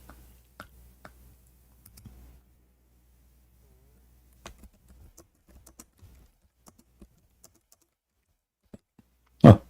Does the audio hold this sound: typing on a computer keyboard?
yes